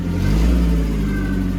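A Massey Ferguson 1200 tractor engine runs steady and loud, its low rumble rising slightly as it revs up close after starting, with no talk over it.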